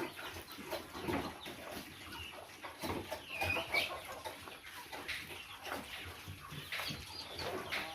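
Chickens cluck repeatedly in short bursts, several birds close by, with scattered farmyard noise and no talking.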